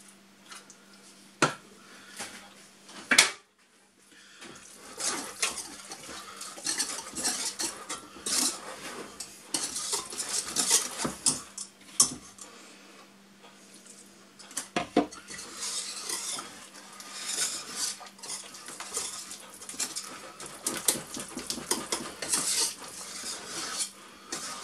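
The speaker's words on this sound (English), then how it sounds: "I'm going to swap to a whisk now" Melted chocolate mixture for rocky road whisked in a bowl: rapid, continuous metallic scraping and clinking of the whisk against the bowl, close and fairly loud, pausing briefly now and then, with no talk.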